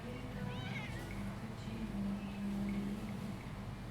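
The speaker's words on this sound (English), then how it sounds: "this is the entire wall of cats" Several cats meowing in the video game Yakuza 6, a rising cry early on and a drawn-out, moaning meow later, set over a steady low hum and background game sound.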